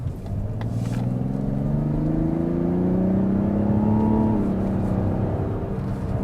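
A Mazda CX-70 engine revs up smoothly, its pitch climbing steadily as it accelerates, loud and close, with no talking.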